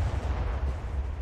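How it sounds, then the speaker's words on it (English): Big twin-mounted naval cannons on a large warship boom in War Thunder, a dense, continuous low rumble of heavy gunfire with rolling reports blending together at steady loudness. "the sound, the report on these guns"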